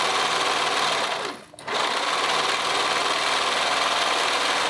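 A sewing machine stitching a cardigan: a loud, close, continuous mechanical whirr with a rapid needle rhythm, briefly pausing once near the start before running steadily again.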